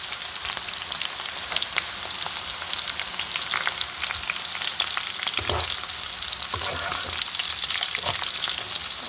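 Chopped beans and onions fry in a pan, a steady bright sizzle running throughout with a few louder bursts of crackle and scraping stirs near the end, close and without talk.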